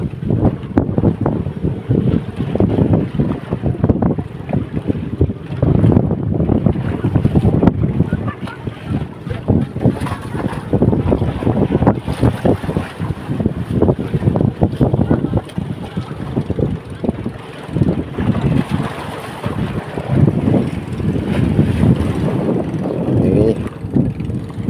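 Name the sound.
boat moving over waves in wind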